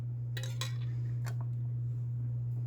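Metal canning lids set onto glass jars of strawberry jalapeno jam, a few quick close metallic clicks and clinks in the first second and a half, then a steady low hum.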